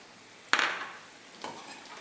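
Lomo saltado with fresh cilantro and green onions is tossed in a hot pan, two scraping, stirring strokes about a second apart with a soft sizzle between them, close and moderately loud.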